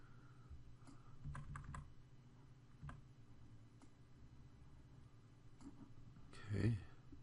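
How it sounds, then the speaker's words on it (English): Computer keyboard arrow keys tapped while nudging a part in 3D modeling software, a few scattered light clicks, faint and close, with a voice talking in the background. "You can use the arrow keys to kind of position it."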